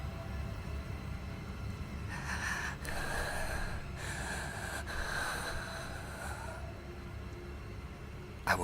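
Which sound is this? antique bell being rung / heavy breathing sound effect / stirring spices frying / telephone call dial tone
heavy breathing sound effect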